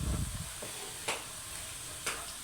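Onions frying in ghee in a pan while cooking Punjabi sarson ka saag, giving a steady low sizzling hiss with a couple of sharp clinks from stirring.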